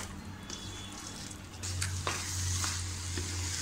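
Egg bhurji fries in a pan over the flame with a low steady sizzle, and a spatula stirs it in occasional scraping strokes, close and without speech.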